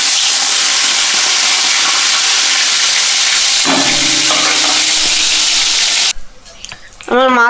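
Pieces of katla fish fry in sesame oil over medium-low heat, giving a loud, dense, steady sizzle up close. The sizzle drops away sharply near the end, and a voice briefly follows.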